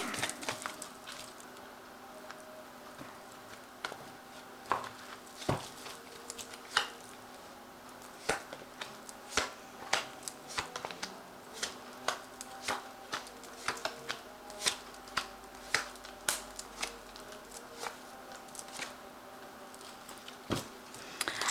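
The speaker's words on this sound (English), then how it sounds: "Now I'm going to just draw some cards from the Ramses Tarot." Ramses tarot cards shuffled and drawn by hand, a steady run of crisp riffling slaps and soft card flicks, close and fairly quiet, with no talking.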